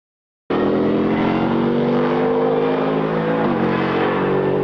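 A Lexus RC F GT3 successor race car engine starts abruptly and holds a loud, close, rasping drone with strong harmonics, dipping slightly in pitch near the end, with no talk.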